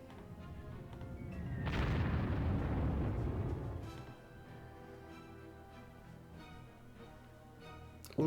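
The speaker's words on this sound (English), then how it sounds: "Good thing we have our ultra long range artillery." Artillery fire and explosions in the Panzer Corps wargame, Afrika Korps campaign in Syria: a heavy rumbling boom swells and lingers for a couple of seconds, then trails off into a low background hum, with no talk.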